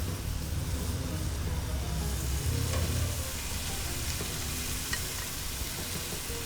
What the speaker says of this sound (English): you want to try and flatten it out, get as much as you can literally on the grill